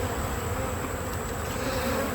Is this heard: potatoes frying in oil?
no